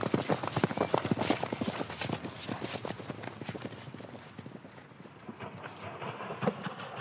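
A horse's hooves clip-clop in a steady trotting rhythm, close and distinct, the beats loud at first and softening slightly later, with no talking over them.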